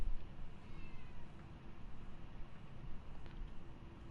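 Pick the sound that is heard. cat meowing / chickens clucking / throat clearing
cat meowing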